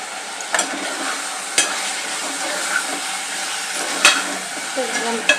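Chicken being stirred into a frying tomato masala for biryani, with a steady sizzle and scattered scraping stir strokes throughout.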